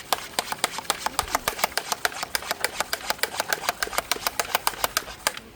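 An IK Multi 360 pump sprayer being pumped up by hand, a quick steady train of about thirty sharp rhythmic strokes, each a bright clicking hiss, close and alone without speech.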